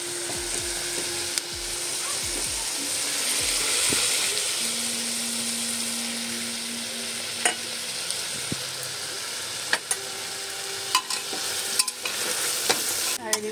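Mutton with turmeric and salt stirred while frying in a pan, a steady close sizzle with intermittent scraping stir strokes and occasional clinks toward the end.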